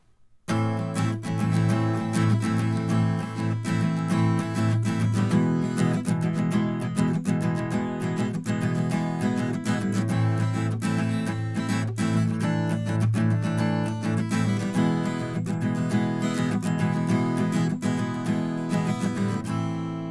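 A strummed acoustic guitar, miked in front of the neck, plays continuously, full and balanced, with bright string detail and a steady, close sound throughout.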